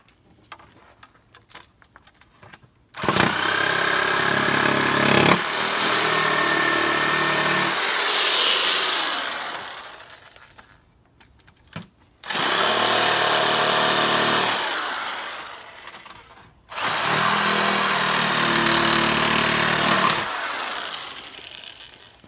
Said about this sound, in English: Take the jigsaw and finish this cut.